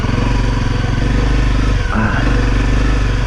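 A Honda CRF250L engine drones steadily and loudly at constant throttle on an off-road trail, a close, rough, even hum with a brief dip and bump near the middle.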